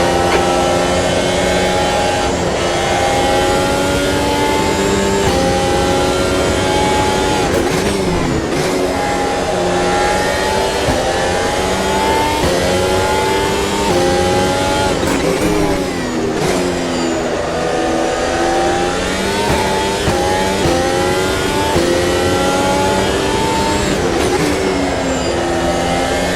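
A race car engine in Automobilista 2 screams steadily through a lap, loud and close, rising and falling in pitch with repeated upshifts and downshifts through the corners.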